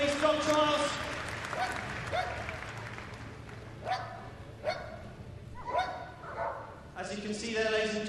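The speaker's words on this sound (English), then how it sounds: "A big round of applause for Gareth Scott, ladies and gentlemen." Applause from an outdoor audience at an RAF police dog display, broad clapping with dog barks and yips bursting through and an announcer's voice over it.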